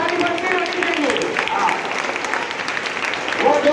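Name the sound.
audience applause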